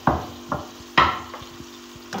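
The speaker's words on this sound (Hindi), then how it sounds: "हम चंगी तरह ये फ्राई करेंगे।" Chopped carrots, chillies and ginger paste fry in oil in a pan while being stirred, giving repeated scraping strokes about every half second over a steady low sizzle, close and fairly loud.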